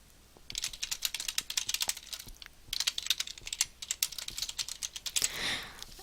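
Rapid clicking keystrokes on a computer keyboard, close and clear, coming in quick irregular bursts with a brief pause in the middle, as a project name and description are typed.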